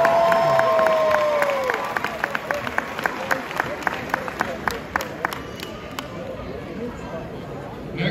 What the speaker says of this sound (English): Now clap it up, guys, clap it up.